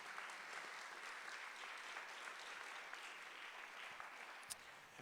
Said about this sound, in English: So please, a round of applause for all the retirees.